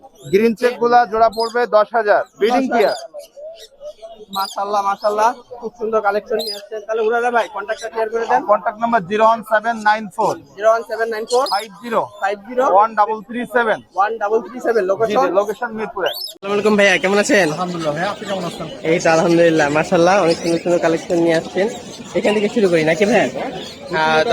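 Caged birds chirping and cooing at the Mirpur 1 bird market in Dhaka, a busy rainy-day pet bird bazaar, sounding continuously and close under loud overlapping chatter and a voice throughout.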